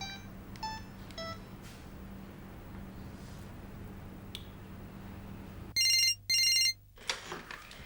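A phone rings in two loud electronic bursts near the end, after several faint beeps over a low steady hum.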